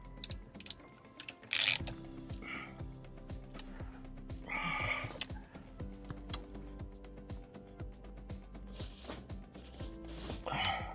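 A ratcheting wrench tightens the center bolt of a Tesla steering wheel, making quick, close bursts of small metallic clicks with short pauses and occasional soft rustling between them.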